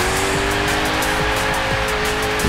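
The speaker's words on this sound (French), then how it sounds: "Donc, première course avec la Koenigsegg Regera." Koenigsegg Regera hypercar in the Forza Horizon 3 racing game, loud steady engine drone with tyres spinning and squealing at the start of a race, close and continuous.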